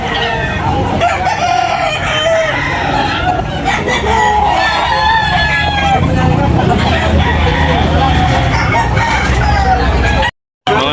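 Roosters crow loudly and repeatedly at a poultry sale in Tabunok, Talisay, Cebu, their calls rising over clucking fowl, a passing car and the murmur of people talking nearby.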